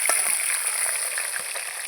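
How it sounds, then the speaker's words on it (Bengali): Bhetki fish frying in hot oil, a steady bright sizzle with small pops and crackles throughout, close and without talk. "এই যে মাছটা আমার ভাজা হয়ে গেছে"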